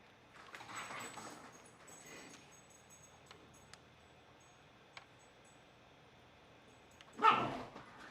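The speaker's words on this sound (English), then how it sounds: "He's just a little terrier, Pan." A small terrier gives quiet yips and whimpers at a distance, followed by one short, louder burst near the end.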